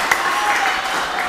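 Applause from a classroom audience of teacher trainees for a presenting group, a short burst of steady clapping close by, with a voice speaking over it.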